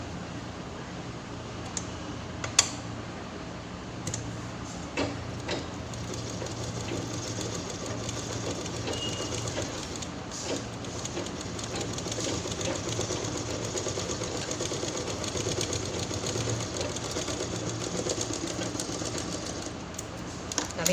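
A sewing machine stitches a zip onto a cloth purse, its motor whirring steadily and close for a long run, with a few sharp clicks and a voice faintly underneath.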